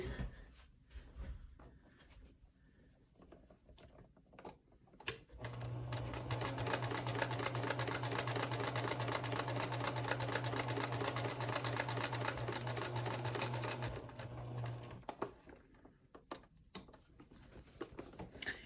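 A sewing machine stitches quilt block squares together, running in one steady rapid burst for about ten seconds after some quiet handling of fabric, then stopping.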